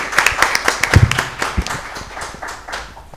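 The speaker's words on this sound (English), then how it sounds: "a round of applause for all the speakers" Audience applause at an international workshop on entertainment-industry copyright, a brief patter of scattered hand claps at close range, thinning out after a couple of seconds, with no speech.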